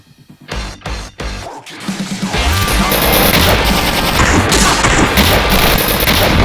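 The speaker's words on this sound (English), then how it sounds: "causing an explosion that allows us to proceed further into the base" A large explosion in the Return to Castle Wolfenstein video game erupts after a few sharp blasts, then builds into a loud, sustained roar of rumbling debris and crackling gunfire-like bursts that fills the rest of the clip.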